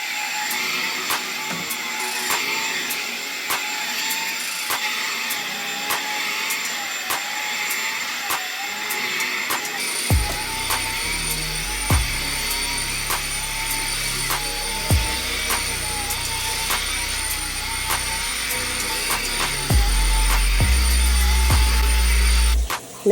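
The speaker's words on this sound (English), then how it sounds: "I'm going to use my Bosch vacuum cleaner. This is the Bosch Unlimited 7." A Bosch Unlimited 7 cordless vacuum cleaner hoovers bedroom and landing carpets, giving a steady close whine with no talk, then growing louder and more rumbling near the end as it presses into the carpet.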